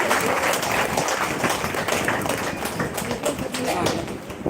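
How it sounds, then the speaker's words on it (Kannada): An audience at a live event applauds a guest, dense steady clapping that fills the whole stretch at close range, with voices mixed in. "ಅವರಿಗೋಸ್ಕರ ಜೋರಾಗಿ ಕೈ ಚಪ್ಪಾಳೆ ಕೊಡಿ ನೋಡುವ"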